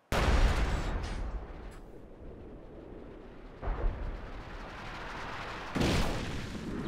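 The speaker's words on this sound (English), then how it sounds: "I thought I'd just give you a demonstration of the new airburst barrage" LEFH airburst artillery barrage in Company of Heroes 2: a sharp blast opens, then further booming shell bursts and crackling explosions arrive in separate waves over several seconds, loud and reverberant.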